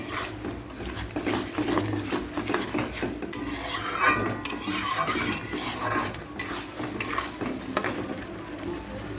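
Spice paste with turmeric being stirred and fried in a pan at home, a busy run of scraping, clinking utensil strikes against the metal pan over a constant sizzle, close and fairly loud.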